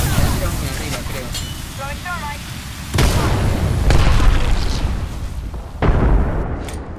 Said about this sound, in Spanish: Tengo una granada. Voy a tirar muy arriba, creo.